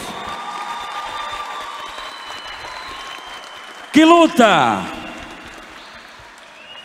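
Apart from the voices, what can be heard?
crowd applauding fighters after a combat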